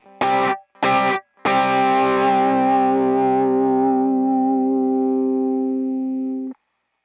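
Electric guitar through a Klon-style overdrive pedal: two short muted strums, then a full chord ringing out with warm, lightly driven grit, sustaining and slowly fading for about five seconds before being cut off, loud and alone.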